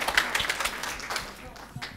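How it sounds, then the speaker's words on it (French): Audience applause at a French student-life event on apprenticeship studies, a brief burst of scattered clapping heard alongside talk and a mid-range crowd murmur. "On peut l'applaudir."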